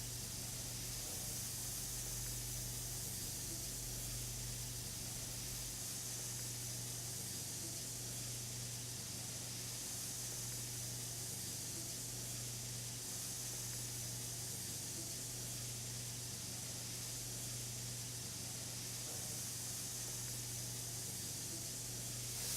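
A burger patty frying in a pan gives a steady, broad sizzling hiss with a low hum beneath it, continuous and even throughout, with no talking.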